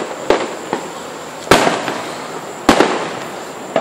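Fireworks go off during a grand finale, with several sharp, loud bursts at irregular intervals, each followed by a crackling tail that fades, heard nearby with no voices.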